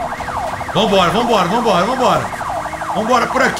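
Several wailing police sirens from military police cars in the Forza Horizon 5 racing game overlap and sweep up and down, loud and close, while someone talks excitedly over them.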